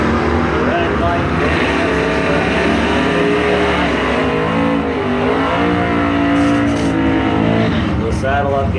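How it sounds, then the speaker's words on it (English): Drag strip bracket racing with a 1965 Chevelle and a Camaro, loud continuous engine roar and revving throughout while an announcer talks over it. "Take on the Lucky Forest Products, 65 Chevelle, Rick Letts, the Letts Express"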